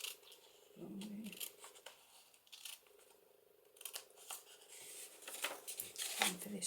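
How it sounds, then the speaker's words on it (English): Small scissors snip through paper in several short, crisp cuts with pauses between them, heard close up in a quiet room, with a voice talking at times. "I'm going to use my scissors. Might be better with the smaller scissors."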